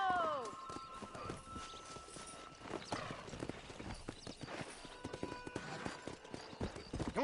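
Horse hooves gallop in Red Dead Redemption, a fast, steady clip-clop rhythm with a whinny near the start, while someone speaks over the riding.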